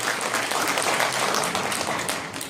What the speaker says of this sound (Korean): 긴 시간 솔루션에 대해서 설명해 주신 조선 대표 큰 박수 한번 부탁드리겠습니다